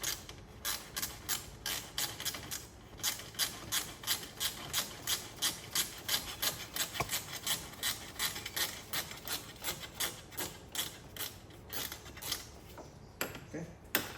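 Long bolt being backed out of a Mercedes radiator support, a steady series of rhythmic ratcheting clicks, faint and close, repeating evenly for over ten seconds.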